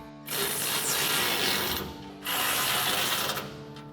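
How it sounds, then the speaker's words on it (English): A ratchet wrench with a 17mm socket tightens the rear skid plate bolts on a 2009-2014 Ford F-150 front bumper, giving two close bursts of rapid clicking separated by a short pause. "take a 17mm socket to tighten these down"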